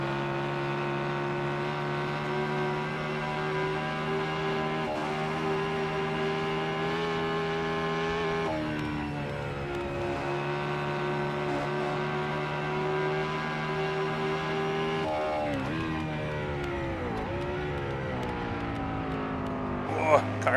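Engine of an R380 sports car in Assetto Corsa accelerating down a straight, a steady loud harmonic drone that holds pitch with a couple of gear-shift dips and a rising sweep near the end, running continuously throughout.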